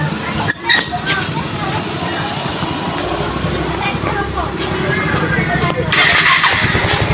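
A motorcycle engine with a suspect regulator/rectifier cranks and starts, then settles into a steady close idle with a brief rev near the end; someone talks over it.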